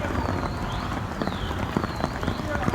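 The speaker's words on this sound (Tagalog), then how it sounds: "ang lakas ng ulan" Heavy rain pouring down on a dark afternoon in Dubai, a dense, steady hiss of drops hitting surfaces nearby with scattered sharper splashes, moderately loud throughout.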